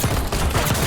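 Automatic gunfire in Call of Duty Black Ops 6: loud, rapid, sustained bursts of shots crackling close by, one brief dip mid-burst, with no talk over it.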